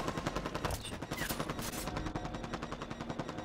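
Rapid automatic gunfire from the Halo 5 video game, dense rhythmic bursts of shots rattling continuously throughout, loud and close.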